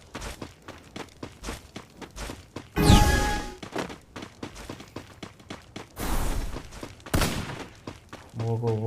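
MP40 submachine gun fire in the video game Free Fire comes in a few short, loud bursts between repeated soft footsteps and thuds.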